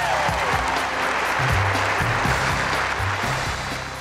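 A crowd of thousands in a college basketball arena applauds and cheers in a dense, sustained roar, with a voice talking faintly underneath.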